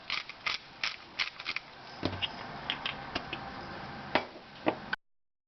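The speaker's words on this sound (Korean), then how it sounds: "여기다가 후춧가루를 뿌려서 먹는 게 좋아." A pepper grinder cranks over fish roe stew in a string of quiet ratcheting clicks and grinding bursts, close and faint with no talk.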